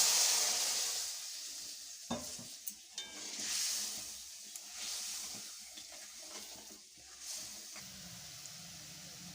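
Mustard masala paste for potol shorshe bubbles and sizzles in a pan after water is added, with a steady soft hiss broken by close stirring scrapes and small pops, and no talking.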